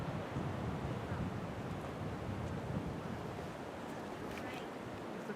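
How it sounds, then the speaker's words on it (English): Ocean surf at Pemaquid Point, Maine, a steady dense wash of waves on the rocky shore below the lighthouse, mixed with wind buffeting the microphone, with no talk. "Ocean."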